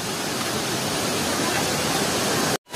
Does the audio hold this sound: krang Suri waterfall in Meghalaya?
yes